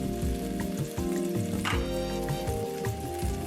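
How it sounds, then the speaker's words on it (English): Edamame frying in a pan over medium-high heat, a steady close sizzle and crackle with a faint stirring sound partway through, continuous and without speech. "Let's start frying our edamame."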